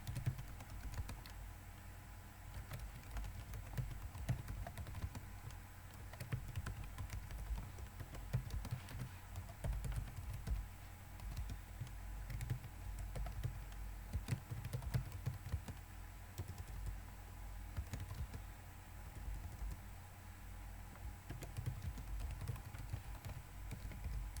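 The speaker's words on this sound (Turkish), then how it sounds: "Mesajımı da yazıyorum." Steady typing on a computer keyboard while composing a phishing email message in Kali Linux, continuous soft key clatter at close range with a constant low hum underneath, no talking.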